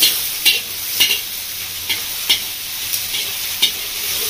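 Spices and grated ginger fry over onion and tomato in a pan for a calbasu fish curry, a steady sizzle punctuated by regular spoon scrapes and taps roughly every half second.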